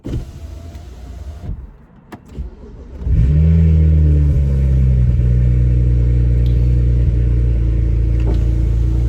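Cold-start crank and catch of a 12-year-old BMW 135i's N54 engine: short cranking with clicks, then the engine fires about three seconds in and settles into a loud, steady, rough idle with no speech.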